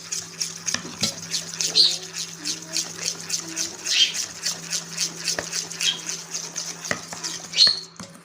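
A spoon stirs attar biscuit dough in a bowl, making repeated soft scrapes and light clinks at an irregular rhythm, close up and fairly quiet.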